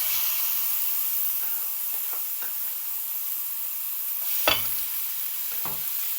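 Sliced leeks frying in hot oil in a pan, a steady close sizzle and hiss throughout, with a few stirring scrapes and a sharper crackle burst midway.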